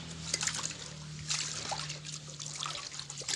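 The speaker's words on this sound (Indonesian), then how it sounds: "Kemudian kita kasih air setengah juga. Baru kita aduk rata seperti ini." Water trickles and sloshes as it is added and stirred into a rice mixture, a close, steady wet dribbling with small splashes and a faint low hum beneath.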